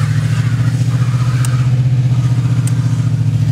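Steady idle of a 1989 Chevrolet Caprice engine with an open catalytic converter exhaust, a loud, continuous low rumble with a faint pulsing throb, close by and without talk.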